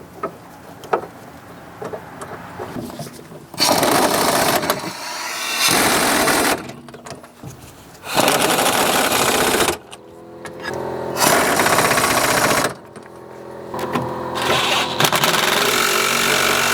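Bursts of a power tool tightening a rear strut bolt on a 2003-2007 Honda Accord, several loud whirring runs of a few seconds each separated by short pauses, close up with no talk.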